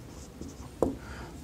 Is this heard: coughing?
no